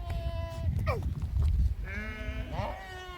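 Sheep bleat in a rural Reasi livestock setting, with several wavering calls heard close by over a steady rumble of background noise.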